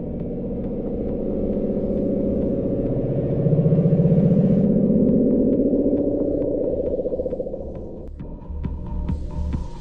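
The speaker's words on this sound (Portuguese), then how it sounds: "um nome dado a um som submarino de frequência ultra baixa extremamente poderoso que foi captado no verão de 1997" Ultra-low-frequency underwater sound known as the Bloop, recorded in 1997 in deep ocean, heard as a loud, continuous throbbing hum with a slowly rising tone, sped up to audible range.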